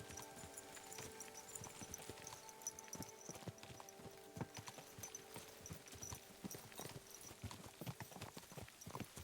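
Quiet, steady clip-clop of horse hooves at a walking rhythm in Kingdom Come: Deliverance II, with faint ambient hum and an occasional soft snort.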